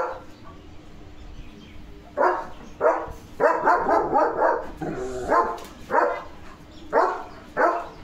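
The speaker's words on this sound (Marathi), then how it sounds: "शेळ्या गेल्या इथून, त्यांच्या आवाजाने भुंकतोय लिओ" A dog, a German Shepherd, barks outdoors at goats that have just passed by, giving a series of loud, close barks in irregular bursts with short pauses between them and no one talking.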